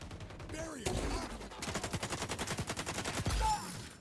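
AK rifle gunfire in the video game XDefiant, a rapid string of loud automatic shots in a steady rhythm, with a few separate blasts and game effects around it.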